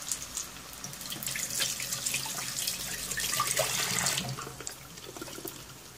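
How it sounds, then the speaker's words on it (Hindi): Tap water runs steadily over hands at a kitchen sink, a close, soft splashing rush that swells and fades over several seconds with no talking. "next one, wash your hand."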